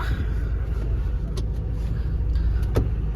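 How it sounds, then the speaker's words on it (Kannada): A car is driven out of a parking area with a low steady engine rumble close by, a couple of brief clicks and knocks over it, and no talking. "ಇವಾಗ ಬೇರೆಯವ್ರ ಗಾಡಿ ಕೀಸ್ಕೊಂಡು ತೆಗಿತಾ ಇದ್ದಾರೆ"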